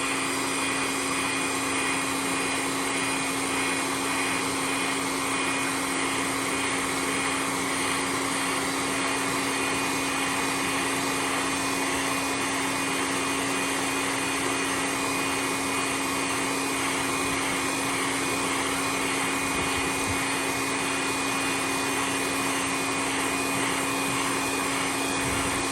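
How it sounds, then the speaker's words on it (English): A hair dryer blowing steadily on a freshly painted crackle craw fishing lure, a constant loud whirring roar with a fixed motor whine running unbroken throughout. "we'll take the hair dryer"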